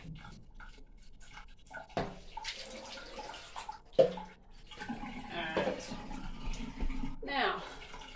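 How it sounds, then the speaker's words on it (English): A tap runs into a bathtub to rinse away dripped fabric dye, with water splashing and gushing in bursts while a person talks over it. "just wash off this bit of dye that's dripped over into the bathtub so it doesn't stay there."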